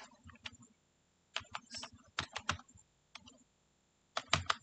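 Typing on a computer keyboard to enter text in Photoshop: short clusters of quiet, crisp key taps separated by pauses.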